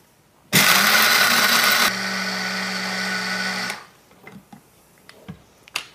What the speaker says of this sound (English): or you grind them up